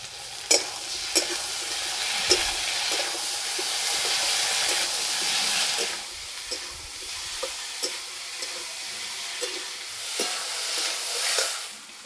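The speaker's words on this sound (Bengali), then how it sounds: "লাউ একটু ভালো করে ভেজে নেব।" Bottle gourd frying with onion and ground spice paste, a loud continuous sizzle and hiss under repeated spatula clacks and scrapes against the pan, close, with no talk.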